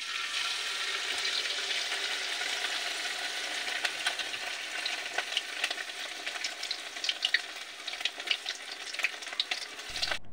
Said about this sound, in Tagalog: oras na para ito ay ating iprito